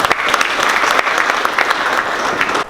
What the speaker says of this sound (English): Let's give Kevin a round of applause.